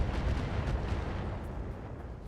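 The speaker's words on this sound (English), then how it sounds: "Did we stray shot that artillery piece right by us?" A stray shot strikes an artillery piece in the mech combat game RogueTech, heard as a dense, sustained low rumble of booming fire and blasts that fills the whole moment and slowly eases, with no talk over it.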